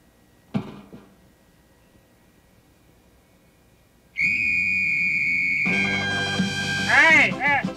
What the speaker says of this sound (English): Oh, I just heard the loudest whistle I've ever heard.